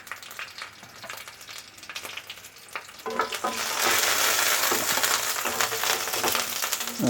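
Slit green chillies drop into hot oil with black cumin seeds, and a quiet sizzle rises suddenly to a loud, steady crackle with stirring scrapes.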